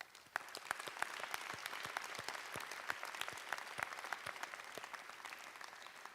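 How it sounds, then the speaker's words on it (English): Applause at a university graduation ceremony, with a sustained, even crowd clapping throughout and sharp individual claps popping out of the dense wash, steady and moderately loud. "Let's take a moment to applaud this phenomenal class."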